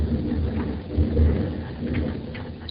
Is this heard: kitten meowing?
no